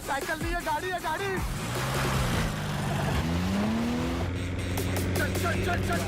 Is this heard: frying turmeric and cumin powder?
no